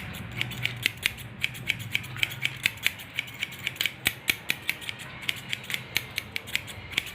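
Scissors snip through hair during a step-by-step haircut, leveling one side with a quick, regular run of crisp close metallic clicks, about three per second, with no voices.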